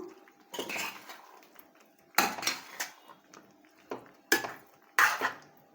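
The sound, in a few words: spoon stirring masala in a cooking pot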